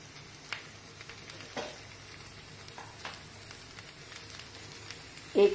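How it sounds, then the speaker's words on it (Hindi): A makki methi paratha roasts in oil on a griddle, giving a faint, soft sizzle with a few light clicks and scrapes, and a brief louder knock at the end. "अच्छा ब्राउन होने तक इसको हम सेक लेंगे, साइड पर थोड़ा थोड़ा ऑयल छोड़ देंगे।"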